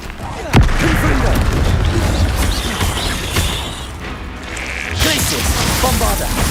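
Confringo spell blast in Hogwarts Legacy, a loud sharp boom followed by crackling debris and rumbling, with a second burst later and game voices throughout.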